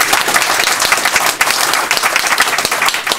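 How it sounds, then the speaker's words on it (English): A conference audience gives a round of applause, dense steady clapping from a room full of people lasting a few seconds, loud and close with no talk over it. "I'd like to ask for a round of applause for Tom."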